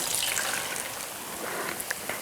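Champagne jello mixture pours into a white shallow lasagna-style pan with a steady, fizzy liquid splashing and trickling sound close up. It carries on without pause and no one speaks.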